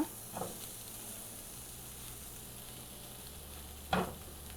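Spiced ingredients toasting in a hot pan before capsicum masala goes in, a steady low sizzle broken by two short scraping stirs, one near the start and one near the end, with no talking.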